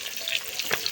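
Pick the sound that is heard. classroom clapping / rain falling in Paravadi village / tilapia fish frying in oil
tilapia fish frying in oil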